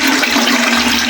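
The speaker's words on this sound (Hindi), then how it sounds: "थोड़ा सा पानी डालेंगे ये।" Water pours steadily and loudly into a pot of rice being readied for kheer, a dense, close rushing splash that lasts the whole moment.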